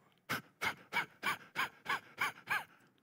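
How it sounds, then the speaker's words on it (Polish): Deep, forceful breaths taken before a fight, eight sharp rhythmic inhale-exhale bursts evenly spaced and close to the microphone, with no talking in between. "wiesz jak się oddycha przed walką?"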